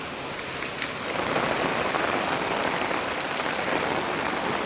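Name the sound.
heavy rain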